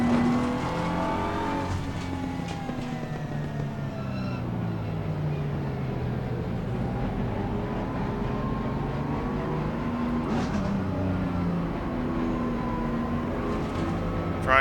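A BMW race car's engine at Brands Hatch in Assetto Corsa Competizione, a steady droning roar with gear-change dips and rising and falling revs, running continuously at moderate level throughout.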